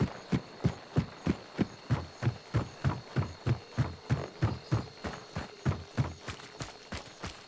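Horse hooves clip-clop steadily in a video game, a regular rhythm of about three beats per second, close and clear over a low hum with no talking.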